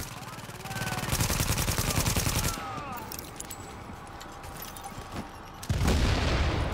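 An automated turret in Tom Clancy's The Division firing rapid, loud bursts that start, pause and resume, with fainter shots and clatter in between and no talking.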